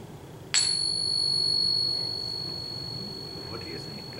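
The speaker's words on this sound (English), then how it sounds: "something that's real coin, it has a nice, pretty sound, and it sounds a long time" A real coin is struck once with a stick and rings with a bright, pure metallic tone that sustains for several seconds and slowly fades over quiet background room noise.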